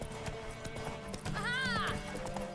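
Horse hooves gallop in The Witcher 3, a fast rhythmic clip-clop close by, with a short whinny partway through and a voice speaking over it.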